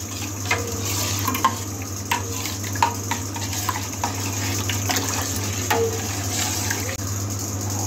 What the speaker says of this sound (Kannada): ಹಾಲಿನ ಪುಡಿನ ಈಗ ಹಾಕೊಂತ ಸ್ಟಿರ್ ಮಾಡ್ತಾ ಹೋಗ್ತೀನಿ